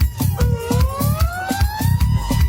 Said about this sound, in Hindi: ये जो इधर क्राइम हो रहा है ना इसके लिए सायरन बज रहा है गाने में।